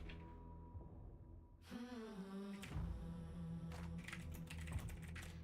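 Quiet tapping on a computer keyboard clicks in irregular bursts beneath steady tonal background music and a soft hum.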